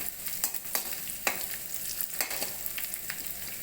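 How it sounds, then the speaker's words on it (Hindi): Onions frying in a pan for Maggi noodles, a steady close sizzle with occasional sharper crackles and stirring scrapes, no voices. "और प्याज अपने अनुसार फ्राई कर लीजिए।"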